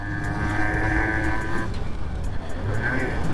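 Yamaha Mate 50 two-stroke motorcycle ridden and turned around in a housing estate: a steady, buzzy engine drone near the rider with a shifting pitch, accompanied by talking.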